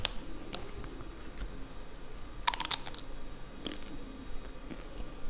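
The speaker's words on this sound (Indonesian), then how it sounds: "walaupun bukan dari keripik singkong, tapi keripik talas, keripiknya tuh renyah, nggak berminyak" Crispy, non-greasy taro chips bitten and chewed up close, a run of dry crackling crunches with one loud burst of bites in the middle, over faint background noise and with no talking.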